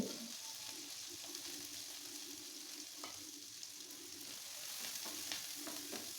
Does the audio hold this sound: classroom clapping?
no